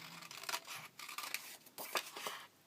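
Scissors cut around a small paper circle of about three and a half inches, a few close, crisp paper-slicing strokes in short bursts with brief pauses between them.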